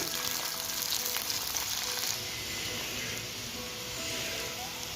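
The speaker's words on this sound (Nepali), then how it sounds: "अब यसलाई एकछिन रातो हुन्जेलसम्म भुट्छु" Onion and garlic frying in oil in a pan, a steady, dense sizzle that holds throughout without letting up and with no voices.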